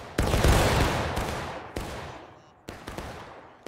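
Musket volley fired on command in a video game battle, a loud crackling burst of massed shots followed by two more ragged volleys, each decaying with echo, no talk over it.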